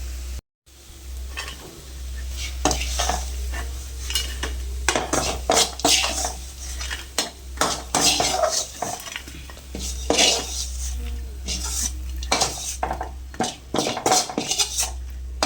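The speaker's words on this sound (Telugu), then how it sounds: "ఉప్పు కారం వేసిన తర్వాత కూడా కొద్దిసేపు ఫ్రై చేసుకోవాలి" Vegetables stir-fried with salt and chili in a pan, heard as repeated metallic scraping and clinking of a spatula against the pan. The strokes come close and irregular over a low steady hum, with faint sizzling.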